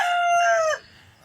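A rooster raised by a Filipino backyard chicken keeper crows once, loud and close, a single drawn-out cock-a-doodle-doo that cuts off abruptly into near silence.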